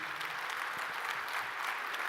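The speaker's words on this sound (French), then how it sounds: "la salle tellement jalouse qui vous applaudit aussi" An audience at an award ceremony in a large theatre applauds steadily, a dense, even wash of clapping from many hands with no breaks.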